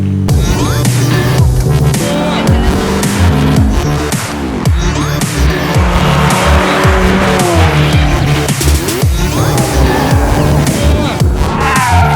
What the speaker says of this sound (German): Das ist so eine geile Karre.